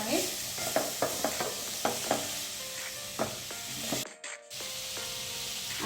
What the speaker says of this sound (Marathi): हे सगळं व्यवस्थित मिक्स करून घ्यायचं